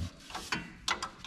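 A ratchet turning a spanner wrench during a Ridetech lowering kit install on a 2020 GMC Sierra 4WD, giving three or four quiet, close ratcheting clicks spaced unevenly in a short burst.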